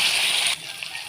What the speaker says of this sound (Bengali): তো এখন দিয়ে দেবো যে কেটে রাখা সবজিগুলো।